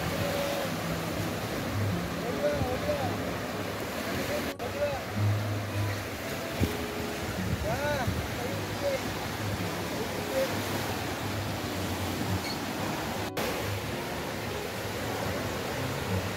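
Steady wash of sea waves on the Fahaheel seaside in Kuwait in the evening, a continuous broadband surf hiss with faint voices and distant activity in the background.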